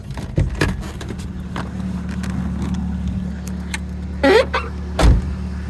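A 1999 Ford Focus with a 1.8 Zetec engine idles smoothly in a low steady hum, broken by a few louder clunks and a brief whirring motor that sounds like a power window, with no voices.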